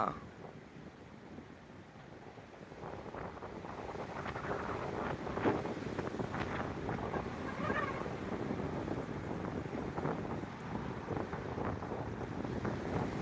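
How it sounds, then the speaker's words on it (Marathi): Strong wind gusts sweep across Bajirao Mastani lake, making a steady, rushing roar that buffets the microphone and continues without a break for the whole stretch. "वारं किती जोरात चाललेलं आहे तुम्ही बघू शकताय"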